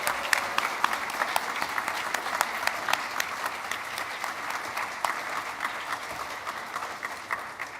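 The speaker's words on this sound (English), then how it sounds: "Can we give our educators a big round of applause?" A congregation at a Sunday Unitarian Universalist worship service applauds its educators, a dense, sustained round of many hands clapping with crisp individual claps throughout, fading slightly toward the end.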